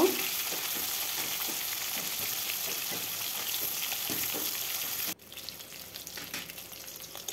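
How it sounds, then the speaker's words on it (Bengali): Steady, loud sizzling of fish frying in hot oil, continuous crackle that drops abruptly to a quieter sizzle near the end. "এইভাবে ভালোভাবে উল্টে পাল্টে ভেজে নেব।"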